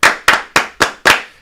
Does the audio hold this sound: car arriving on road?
no